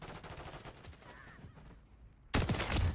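Gunfire from the XRK Stalker sniper rifle in Modern Warfare 3, with a soft rattle of distant shots early on and then a single loud, close blast that rings out near the end of the clip.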